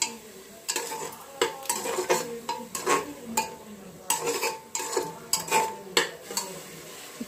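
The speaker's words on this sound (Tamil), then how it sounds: "புதினால உள்ள பச்சை வாசனை எல்லாம் போகணும் அதனால பாத்தீங்க அப்படின்னா நல்லா வதக்கி விடுங்க" Mint masala being stirred and sautéed in a metal pot for kusku, with repeated spoon scrapes and clinks against the pan over a soft sizzle, steady and close, no talking.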